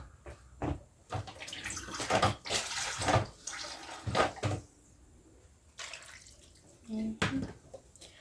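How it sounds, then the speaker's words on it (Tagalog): A little water splashes into pork menudo cooking in a home kitchen, in short uneven pours and bursts of sloshing separated by pauses, with faint voice sounds in places. "Lalagyan kong konting tubig."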